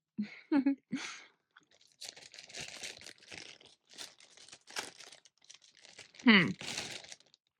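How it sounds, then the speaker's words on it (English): Someone chews a chewy candy with moist, sticky mouth sounds and soft crunches in irregular bursts, close to the microphone, while a person talks intermittently. "these chewy ones, it just takes me a while to chew."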